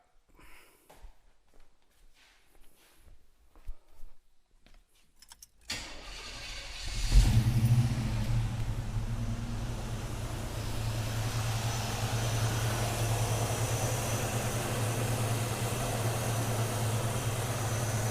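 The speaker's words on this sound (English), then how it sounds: "we will fire the engine back up" A car engine cranks and catches after several seconds of quiet rustling, following throttle body adjustment, then settles into a steady, loud idle rumble that continues to the end.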